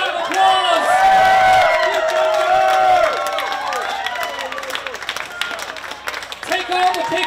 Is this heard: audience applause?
yes